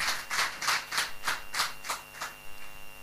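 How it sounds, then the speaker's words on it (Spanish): A church congregation claps in a quick, fairly even rhythm of about ten claps that fade toward the end, moderately close, with no talk over them. "Le saqué un aplauso"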